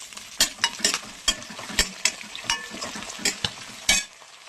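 Onions browning in a pan with mint, a steady sizzle broken by repeated sharp scrapes and stirs of a spoon against the pan at an uneven rhythm, close and fairly loud, with no talk.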